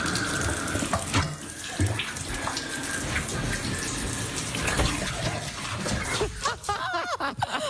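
Shower water runs steadily throughout while a Golden Retriever and a second dog drink from the stream, with faint lapping and splashing under the constant spray.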